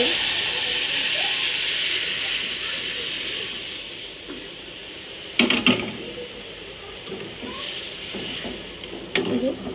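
Spinach dal with cumin tempering being poured into a hot pot, a loud sustained sizzling hiss that gradually fades, broken by a few sharp clatters of utensils against the pot.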